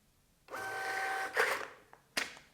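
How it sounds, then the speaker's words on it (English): A POS receipt printer runs for about a second with a whirring, buzzing print motor, then gives two short clicking bursts as the paper is fed and torn, heard up close in a quiet room. "This will communicate to the printer that it can print the receipt."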